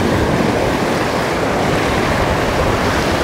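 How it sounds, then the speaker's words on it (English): Ocean waves and heavy swells roll in at Surfside Jetty in Texas, with strong wind buffeting the microphone in a loud, continuous, unbroken roar. "A lot of swells."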